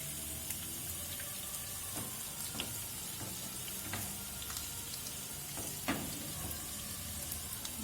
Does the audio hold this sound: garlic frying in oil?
yes